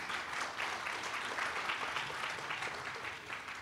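A conference audience at a DNS forum plenary session applauds its speakers, a continuous, even rustle of many hands clapping, fairly distant and quiet, lasting a few seconds without talk.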